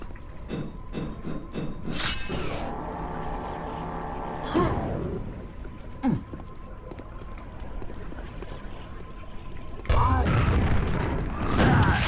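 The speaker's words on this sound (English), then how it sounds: "I didn't need to waste that nade, but it's okay" A grenade explodes in Quake on the Floyd Factory Jam map: sharp, booming blasts stand out over steady game ambience and a humming tone, with a heavier rumbling burst near the end.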